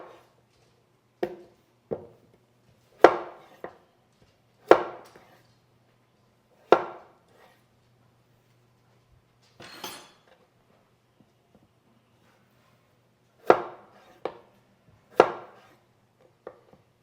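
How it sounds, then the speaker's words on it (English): A knife chops potatoes into thick baton-cut French fries on a cutting board, sharp distinct knocks arriving in irregular bursts with pauses between, close and clear with no talking. "Then you're going to go back and cut them into French fries."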